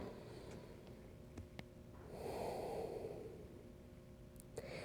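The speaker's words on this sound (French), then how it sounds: "On va se faire une grande respiration." A deep breath during a virtual exercise class for people over 55, drawn in and let out as one soft, airy sigh lasting about a second, with faint room noise before and after.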